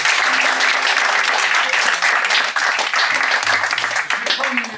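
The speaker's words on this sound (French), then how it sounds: "Je vous demande de les applaudir." Audience at an improv comedy show during the Avignon festival gives loud, sustained applause, dense crowd clapping with faint voices mixed in underneath.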